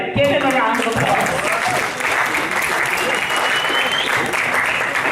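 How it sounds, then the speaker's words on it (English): Loud audience applause for a speaker at a school anti-bullying event, a packed room clapping and cheering steadily throughout, with a voice briefly audible at the start. "Give him a round of applause."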